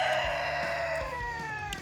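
A leghorn chicken clucks and crows close by in short bursts, with a sharp rooster-like call cutting through near the end, outdoors beside a flat-top griddle cook.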